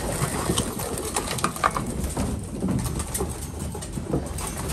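Pigeons cooing in a loft: soft, low repeated coos come close together at a moderate level, with rustling and light background noise and no talking.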